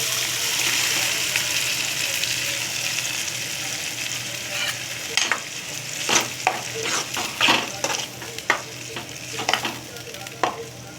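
Gravy is poured into a pan of frying jackfruit curry, bringing a steady close sizzle with bursts of spoon-and-pan clatter and stirring scrapes that grow busier toward the end.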